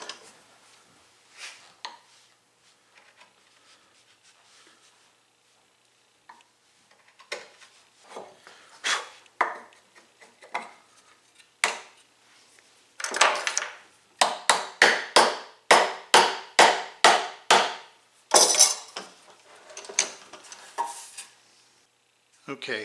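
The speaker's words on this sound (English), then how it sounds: "I want to be chiseling into the bench, not to the side, because it'll just push the workpiece." A chisel is struck into a wooden workpiece clamped in a vise on a bench, giving a run of sharp, close, evenly spaced knocks that grow denser and louder midway, with quieter scattered taps before and after.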